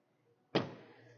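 A faint mechanical clunk of a 2023 Toyota GR Supra's trunk latch releasing via a button under the front speaker, one short thud followed by a brief fading rattle in a quiet space.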